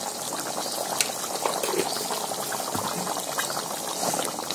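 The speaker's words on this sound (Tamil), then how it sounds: "அந்த குழம்பு கொதிச்சிருச்சு" Kerala-style coconut chicken curry boiling in a pot, a constant close bubbling and popping that continues evenly with no talk.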